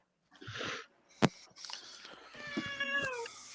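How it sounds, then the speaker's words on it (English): A cat meows several times nearby, with drawn-out, wavering cries and a caterwauling tone. A sharp knock and a little background rustling come between the calls, and no one speaks over them. "Oh, there is a cat."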